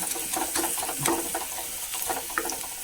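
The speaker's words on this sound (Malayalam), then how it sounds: "നന്നായിട്ടൊന്ന് എണ്ണ തെളിയുന്ന വരെ ഒന്ന് വാട്ടി കൊടുക്കാം" Chili and turmeric paste sautés in coconut oil for a spicy fish curry, a steady close sizzle and crackle mixed with soft stirring scrapes, with no talking.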